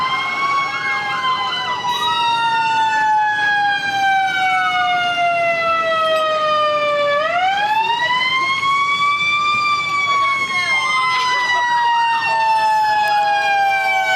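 A fire truck siren from the Hinsdale Fire Department wails loud and close during a town anniversary parade, sweeping slowly down and then rising again in a long, continuous electronic tone.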